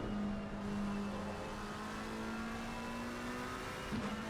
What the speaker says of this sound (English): in the 95 Porsche 911 sneaks through